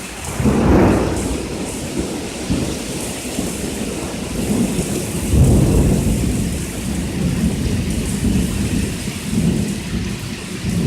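Thunder rolls through a hard summer downpour, with deep rumbles swelling near the start and again around the middle while dense rain keeps falling steadily throughout, with no voices.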